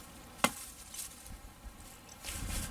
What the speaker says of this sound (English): I chopped up this stick a little bit and it just takes the wood right off there